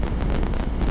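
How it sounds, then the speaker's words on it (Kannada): Strong wind buffets the microphone beside a wide highway between Bengaluru and Shimoga, a steady, loud low roar with no talking. "ಓ ಗಾಳಿ ನೋಡಿ, ಇಲ್ಲಿ ಗಾಳಿ ಹೆಂಗೆ ಎಸಿತಾ ಇದೆ"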